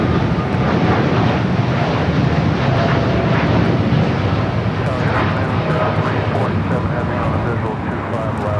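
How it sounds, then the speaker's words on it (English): A Japan Airlines Boeing 787-9 Dreamliner bound for Tokyo Narita takes off at Los Angeles International Airport, its loud, steady jet roar filling the scene with broadband rumble and wind buffeting, while a voice speaks intermittently over it. "Japan Airlines, the flight heading back to Tokyo Narita. 787-9 Dreamliner, next takeoff."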